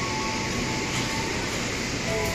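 A local Merak train stands at Rangkasbitung station with its engine idling, a steady, dense rumble and hum that stays constant and close throughout, no voices heard.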